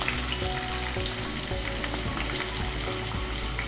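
Chopped onions hit hot oil already seasoned with cinnamon, cardamom and fennel for a prawn and brinjal kurma, giving a steady, close, loud sizzle with crackling throughout and no voices.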